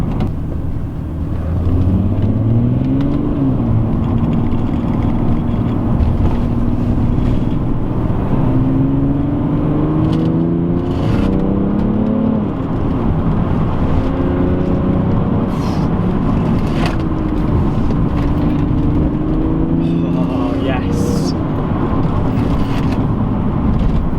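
A remapped BMW F30 335d xDrive diesel pulls strongly on the road, its engine droning and rising through several gear-like sweeps over a continuous rumble of tyre and road noise heard from inside.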